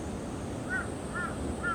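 A crow cawing three times at even intervals, moderately distant, over a steady outdoor background hiss.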